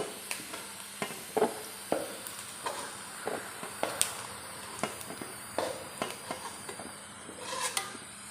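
Prawns frying in oil for a dry mango pickle give a soft, steady sizzle beneath repeated clinks and scrapes of a ladle stirring the pan, fairly quiet and close.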